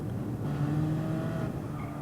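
A race car in Gran Turismo Sport drifts wide through the Nürburgring's Carousel, its engine holding a steady droning note with faint tire scrub beneath it.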